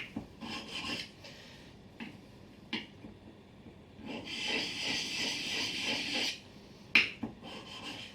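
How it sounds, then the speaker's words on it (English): A steel woodworking chisel rubbed back and forth on a sharpening stone, producing steady gritty rasping strokes in repeated bursts with a few sharp taps, close and moderately quiet, no talking. "So if you're sharpening your chisel through a job,"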